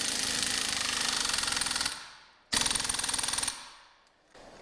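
An impact wrench hammers the big nut onto a Dana 50 driveline yoke in two loud, rapid rattling bursts, each winding down afterward, close up with no talk.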